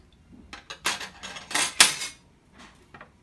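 Spoon scraping and clinking against a bowl while condensed milk, cream corn and sugar are mixed, a series of uneven metallic clatters and scrapes, close and fairly quiet, with no talk.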